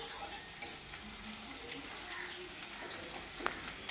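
Onions frying in a pan for a shrimp and ridge gourd curry give a steady, close sizzle that runs throughout, with a few faint clinks of a utensil against the pan.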